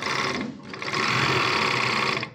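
An overlock sewing machine whirs loudly and steadily as it trims and stitches cloth, with a short dip before it runs again at full speed.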